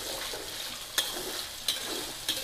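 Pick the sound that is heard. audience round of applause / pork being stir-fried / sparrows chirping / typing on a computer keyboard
pork being stir-fried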